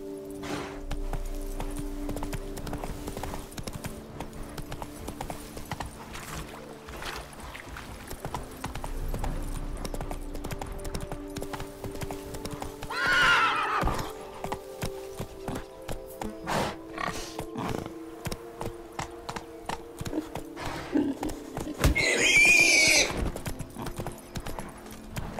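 Roach the horse galloping in The Witcher 3, rapid rhythmic hoofbeats clopping steadily throughout, close and clear, with a few short bursts of voice and ambient game sounds.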